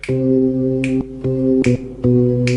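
A sustained electronic keyboard bass line holds steady notes and changes pitch every half second or so, with sharp percussive snaps marking the beat.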